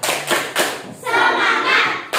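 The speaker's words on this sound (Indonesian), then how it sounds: "mari kita bersama-sama melakukan tepuk semangat" Students in a classroom perform the tepuk semangat routine, sharp rhythmic hand claps and slaps ringing close and loud in bursts, with children's voices chanting between them.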